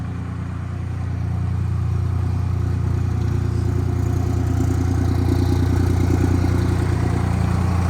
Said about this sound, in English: I don't necessarily understand the science behind the 3-cylinder idle